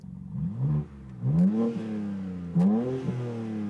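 BMW M3 G80 engine revving with the exhaust flaps open in comfort mode, three sharp rising blips close by, each swelling loudly and dropping back to a steady throaty idle, with no talking.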